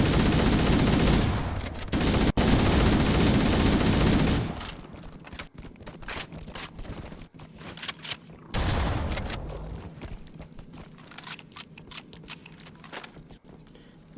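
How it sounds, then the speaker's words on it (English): Loud, dense weapon fire in Halo: Combat Evolved, a sustained burst of rapid shots filling the first few seconds, then quieter scattered impacts and a second shorter burst, with no talk. "Really do not like the splishing sound of the weapon."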